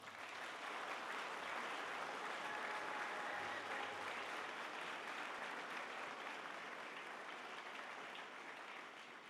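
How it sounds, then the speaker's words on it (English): Sustained applause from a sizable audience at a military ceremony, a steady wash of clapping that holds level for several seconds before easing slightly. "Let's give these fine soldiers a round of applause."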